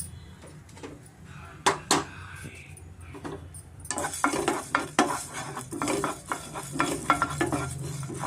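Coriander seeds roast dry in a pan, stirred with a metal spoon that makes sharp scraping clinks and rattles, quieter at first and busier in the second half, with no voices.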